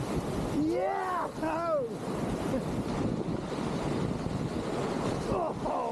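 Whitewater waves churn and rush around a canoe on a river run, a loud continuous roar with wind buffeting, while people shout and whoop over it.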